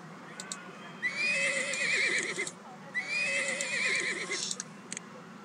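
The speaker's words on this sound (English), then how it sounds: "Przewoski's wild horse" Przewalski's wild horse in Zoo Tycoon giving two loud, shrill whinnies in quick succession, each with a wavering high call, over faint game clicks and ticks.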